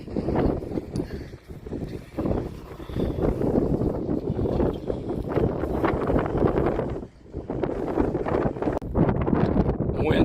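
Strong, steady wind buffeting an outdoor microphone on a farm where a white 6100 planter is being repaired, a loud continuous low rumble that briefly drops out near the seven-second mark before returning.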